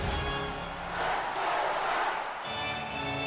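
Steady roar of an ice hockey arena crowd in an EA NHL game, a broad sustained cheer that swells and dips slightly, with no talk over it.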